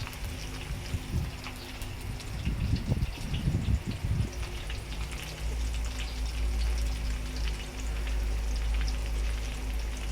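Smoked chili and chili padi sizzle in hot oil in a wok, a burst of crackling spatter around the middle settling into a steady, moderately close fry.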